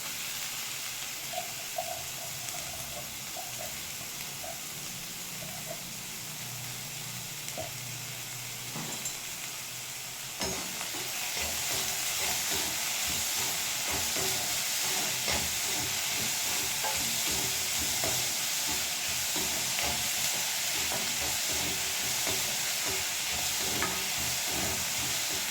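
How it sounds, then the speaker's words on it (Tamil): Chopped onions, green chilies and curry leaves sizzle in hot oil with fennel seeds for a lentil-ball curry. The frying turns louder and denser partway through as more goes into the pan, then holds a steady hiss. "சோம்பு பொரியத்துக்குள்ளேயே நம்ம வெங்காயம் போட்டுக்கலாம்."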